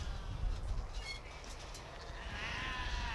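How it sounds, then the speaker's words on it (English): Beltex ewe lambs lined up in a show class at the Royal Highland Show give faint bleats over a hollow crowd-and-hall murmur, heard from a distance. "And we have a lovely lineup of the Beltex ewe lambs."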